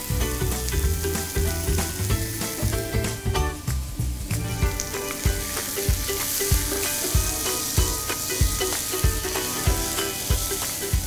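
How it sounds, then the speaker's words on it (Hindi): Marinated lamb, bone-in and boneless pieces, fries with browned onions in a pan, a loud, steady sizzle with frequent clinks and scrapes of stirring throughout, no talk. "तो अच्छे से लैम को भूनेंगे थोड़ा।"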